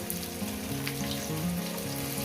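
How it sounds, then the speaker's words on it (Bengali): Potatoes fry in a pan for a cauliflower-potato posto dish, a steady crackling sizzle that runs throughout beneath a soft melodic tone. "আলুগুলো আমি আগে দু মিনিট ভেজে দেবো"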